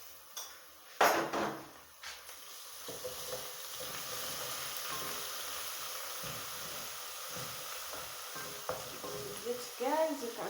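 Garlic and ginger hit browned onions in a pan for beef fried rice, setting off a continuous sizzle. Metal utensils clank against the pan now and then.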